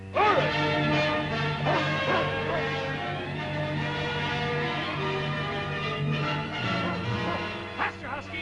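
Sled dogs, huskies pulling through the northern wilderness, barking and yelping in several sharp calls over a steady droning background, moderately near.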